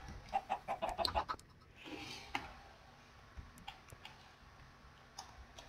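Chickens in the Minecraft video game cluck in a quick run of sharp, close calls, followed by sparse clicks and softer clucks over a quiet background.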